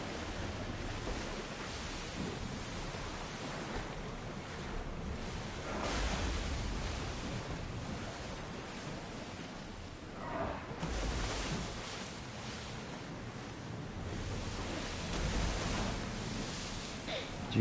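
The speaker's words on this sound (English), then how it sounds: "the waves are getting a bit rough" Rough ocean waves in Assassin's Creed Odyssey roll and crash in broad surging swells, loud and close with wind rushing over the water, building and easing for several seconds with no voices.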